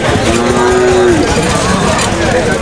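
A cow gives a single loud drawn-out moo at a busy rural cattle market in Bogura, Bangladesh, over dense crowd noise and chatter.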